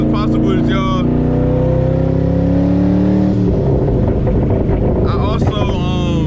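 A twin-turbo Boss 302 Mustang pulls hard with a loud, steady engine drone that climbs in pitch, breaks briefly at a gear change, then rises again, with wind buffeting and brief talk over the start and end.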